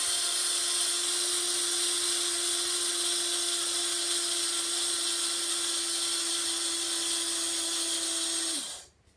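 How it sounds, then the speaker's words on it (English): A blender grinds dried coconut into flour with a loud, steady high whine and motor hum running unbroken for about nine seconds before cutting off abruptly at the end. "And you just grind the coconut into flour."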